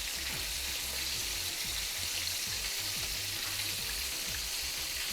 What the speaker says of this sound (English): let my Guava BBQ sauce here simmer for about 4 more minutes